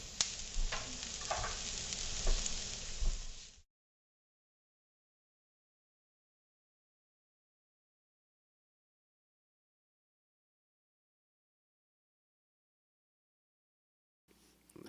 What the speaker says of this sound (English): I'm going to saute the onions for the enchilada filling.